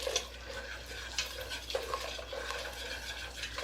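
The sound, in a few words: stirring flour roux with pepper in a pot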